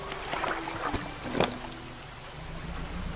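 Fishing boat engines in the video game Dredge run fast as the boat speeds over water. A steady, moderate rush of water and motor noise holds throughout without pause.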